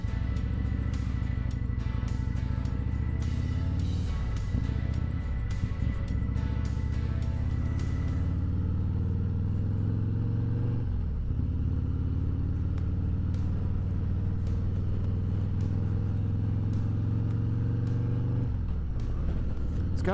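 Harley Road Glide motorcycle with Rinehart exhaust heard while riding, a continuous low engine rumble with wind noise, fairly subdued and steady, with occasional gear-change dips.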